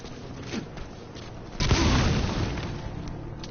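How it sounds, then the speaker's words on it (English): A claymore mine goes off in Metal Gear Solid V: The Phantom Pain, a sudden heavy boom after quiet ambience, followed by a long rumbling decay. "There was an explosion."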